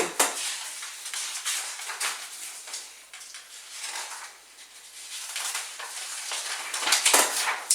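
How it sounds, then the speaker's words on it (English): A tin of deep blue Pureco Inkwell all-in-one paint is stirred, giving close, uneven scraping and light knocking against the tin in irregular bursts. No voices are heard. "it's really important to give them a stir, a really good stir"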